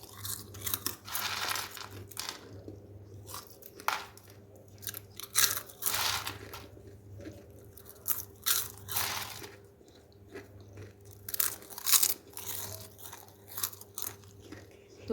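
Homemade sweet caramel popcorn is bitten and chewed close to the mic, giving repeated crisp crunches in irregular bursts over a soft steady hum, with no talking.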